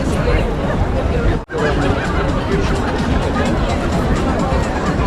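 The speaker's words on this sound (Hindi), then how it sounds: "और ये देखो भीड़ देखो।" Dense crowd chatter and babble at an outdoor Russia Day concert, a steady hubbub of many voices with scattered laughter, briefly cut out for a moment near the start.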